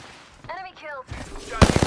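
Gunfire in the Apex Legends battle royale game crackles in a quick burst near the end, following a short stretch of voice-like tones; rapid automatic shots land close and loud over the game's background noise.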